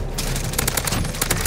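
Rapid automatic gunfire in a video game shooter, a loud dense burst of evenly spaced shots at close range with no talk over it.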